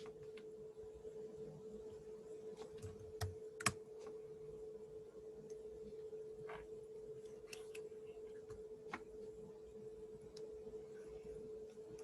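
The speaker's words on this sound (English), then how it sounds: "I'm just typing." Computer keyboard typing, a run of faint light key clicks with one sharper tap, over a steady electrical hum and quiet room noise, no talk.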